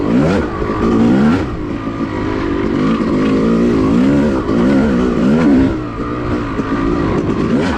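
Yamaha YZ250 two-stroke dirt bike ridden hard along a whooped-out off-road trail at an OHV park, its engine loud and close, rising and falling steadily as the rider works the throttle through bumps.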